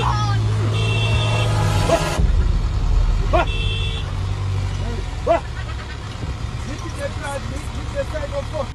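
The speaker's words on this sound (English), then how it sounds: "The driver keeps backing up as fast as he can to avoid the rhino ramming" Safari vehicle reversing fast away from a charging rhino in Africa, engine droning and straining under excited voices and shouting, with sudden bursts and shifts in engine noise.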